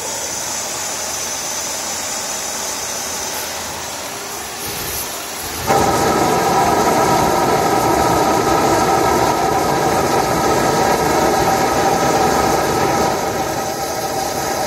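A propane burner in a homemade waste oil foundry roars steadily, then jumps sharply louder partway through and holds a loud, continuous rushing tone with no talk.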